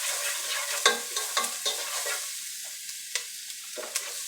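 Minced garlic sweating in a pan as the base for tomato sauce, a steady soft sizzle broken by a few sharp stirring clicks and scrapes, close by with no one talking.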